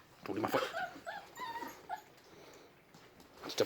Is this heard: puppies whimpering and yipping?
yes